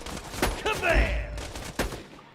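Gunfire from a gun in the video game Borderlands 2: several sharp, loud shots in quick succession with a booming low blast, heard close and alone.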